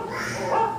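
A dog whimpering in a short, close, high-pitched whine that rises slightly toward the end, heard alone.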